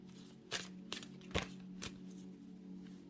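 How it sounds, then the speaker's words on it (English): Tarot cards being shuffled by hand, a few soft riffling bursts and taps spaced about half a second apart over a low steady background hum, quiet and close with no speech. "Let's get some shuffles in."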